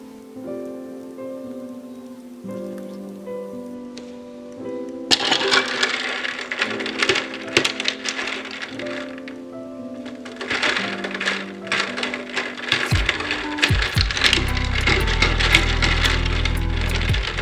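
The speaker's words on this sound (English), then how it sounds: "eventually you'll hear it just crack a little bit or completely snap off" Heated wine bottle glass dunked in ice water, cracking and snapping: irregular sharp ticks and clinks over water sloshing, growing denser and louder toward the end, close with no talk.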